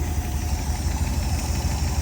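A 1967 Lincoln engine idles with a steady, loud, low rumble and an even pulsing throb, continuous and close with no one talking.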